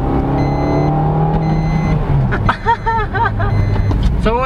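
A 2022 Suzuki Dzire GL+ with automated gear shift accelerates in manual mode, its engine tone climbing then dropping at a shift, with a voice talking over the cabin drone.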